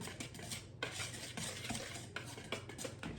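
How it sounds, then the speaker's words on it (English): Dry cookie ingredients whisked together in a bowl for double chocolate chip cookies, a steady close scraping and clinking of the whisk against the bowl with frequent sharp taps, no talking. "So we'll whisk all of those dry ingredients together"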